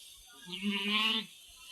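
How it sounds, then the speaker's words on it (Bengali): A single goat bleats in a grassy field where goats are grazing, one wavering, nasal call lasting under a second, close and clear over a quiet outdoor background. "দেখুন ছাগলগুলো কি সুন্দর ঘাস খাচ্ছে।"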